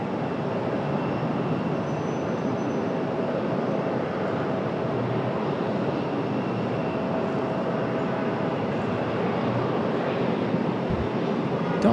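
An aircraft takes off from runway 23 left at Raleigh-Durham International Airport, a steady far-off roar of broadband jet noise holding even for about twelve seconds with no voices present.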